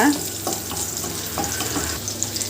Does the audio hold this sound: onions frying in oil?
yes